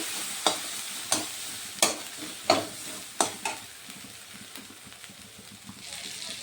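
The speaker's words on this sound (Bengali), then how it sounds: "এগুলো দিয়ে প্রথমে আমি একটু কষিয়ে নেব" Turmeric and Kashmiri chilli powder being sautéed in a pan, with a steady sizzle punctuated by six sharp, regular spatula taps against the pan in the first half, then continuing quieter frying and stirring.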